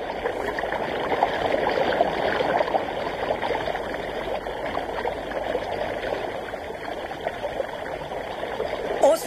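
Ronneby river flowing steadily, a continuous close wash of moving water with gurgles and trickles that stays even and unbroken throughout.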